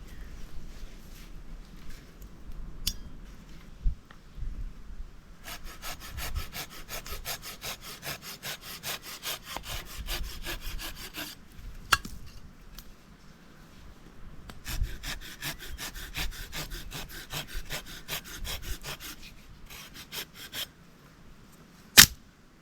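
A hand saw cuts firewood into small logs at a riverside camp on the Loire, with long runs of rapid rhythmic rasping strokes broken by pauses and a few sharp knocks, close by.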